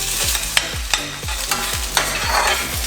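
Onions frying in a pot, with a continuous sizzle under repeated rhythmic scrapes of a spoon stirring them, about two strokes per second, close and fairly loud.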